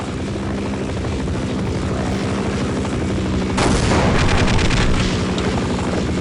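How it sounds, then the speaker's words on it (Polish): An attack helicopter in the video game Half-Life: Opposing Force thrums steadily with a constant rotor drone, then about midway opens fire in a loud, rapid burst of gunfire that rattles on over the engine noise. "Czemu ten śmigłowiec do mnie strzelał?"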